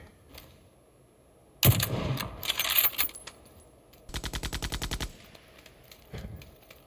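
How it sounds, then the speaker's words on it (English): MG3 machine gun fire in PUBG: a sharp burst, a second burst, then a steady rapid string of about a dozen evenly spaced shots, fairly loud, with a faint shot at the end. "He's got me pinned down with the"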